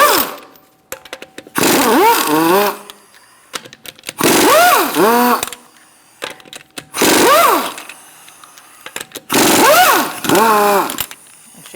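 A power tool drives a 19mm socket to remove the wheel lug nuts on a Buick Encore, in four short whirring bursts separated by pauses, each rising in pitch as a nut spins free.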